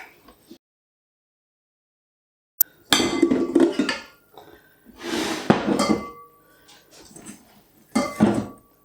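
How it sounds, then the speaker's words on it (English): Sourdough pizza dough handled into an oiled glass bowl in a home kitchen, with a sharp tap followed by several bursts of clinking glass, scraping and soft thuds, loud and close, separated by short quiet gaps. "I'm going to transfer it to this glass bowl."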